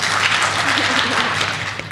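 A lecture audience at a school of entrepreneurship claps steadily to vote on an answer, a dense sustained wash of applause filling the room.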